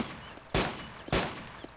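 Gunfire in the video game DayZ: two loud, sharp shots roughly half a second apart, each ringing off briefly, with faint clicks between and no speech.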